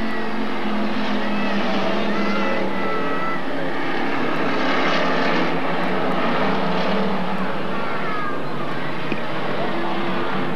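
Dirt track race cars roar through a heat race at Magic City Speedway in Billings, Montana, their engines forming a loud, dense, continuous drone with pitch swells, and a voice talks over it.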